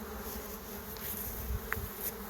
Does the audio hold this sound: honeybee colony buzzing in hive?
yes